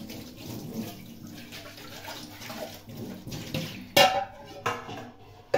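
Dishes are washed under a running tap, with steady flowing water, soft splashing and occasional clinks of crockery nearby, and a few louder knocks toward the end.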